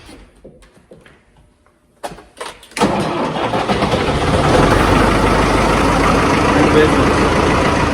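A four-wheel-drive vehicle's engine cranks briefly and catches, then settles into a loud steady idle close by after a few quiet seconds of faint sounds.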